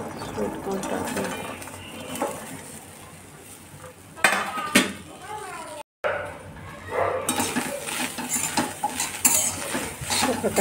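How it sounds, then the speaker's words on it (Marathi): Sweet corn being fried in hot oil in a pan, with a soft sizzle under repeated clinks and scrapes of a utensil stirring against the metal, broken by a short pause before the stirring resumes. "आता याच्यामध्ये आपण असे स्वीट कॉर्न टाकूया।"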